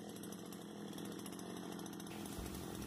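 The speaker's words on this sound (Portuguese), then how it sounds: "Eu preparando aqui a roçadeira, dando aqui uma aceleradinha" A brush cutter's engine revs in a field, giving a loud, steady, high-pitched two-stroke whine close by that holds throughout and shifts in tone about two-thirds of the way through. No one speaks.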